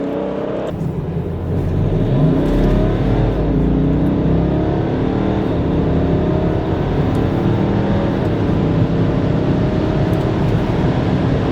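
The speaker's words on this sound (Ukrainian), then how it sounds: "вмикаємо спорт, натискаємо газ в пол" BMW X4 35d diesel accelerating hard at full throttle in sport mode, a loud steady engine roar that swells after the first second and holds strong and close throughout.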